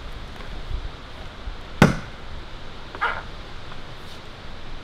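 An axe chops into a black ash tree with two sharp wooden strikes: a loud, crisp hit followed about a second later by a softer one, both over quiet outdoor background noise.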